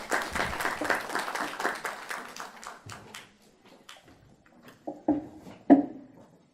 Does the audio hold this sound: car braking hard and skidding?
no